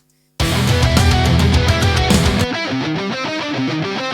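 After a brief silence, a loud distorted guitar plays a sustained lead washed in large reverb, quarter-note delay and stereo widening, sounding broad and spacious, with no voices.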